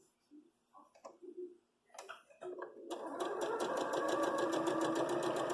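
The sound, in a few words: sewing machine sewing quilt fabric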